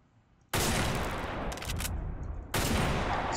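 Two loud, close blasts from an MRAD .50 sniper rifle in a video game, the first at about half a second and the second near two and a half seconds, each followed by a long, ringing echo tail.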